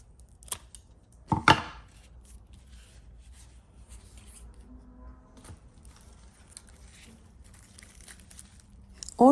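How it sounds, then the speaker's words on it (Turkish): Rotten orchid roots being cut away, with a couple of sharp, close snips early on, then faint handling rustles in a quiet room and a louder crackle right at the end. "Böyle bir durumda bütün kökleri keserek orkidenin gövde kısmını iyice"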